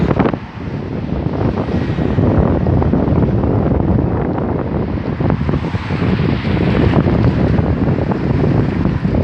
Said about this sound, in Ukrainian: сильний дуже вітер.